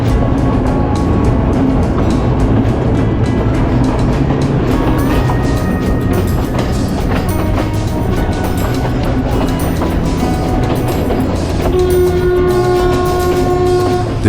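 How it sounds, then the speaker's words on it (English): A train on Sri Lanka's Demodara Loop rumbles loudly and steadily as it runs into a tunnel, the horn sounding in long sustained tones throughout. "the train enters the tunnel"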